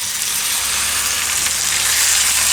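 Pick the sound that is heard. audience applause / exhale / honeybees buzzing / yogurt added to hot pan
yogurt added to hot pan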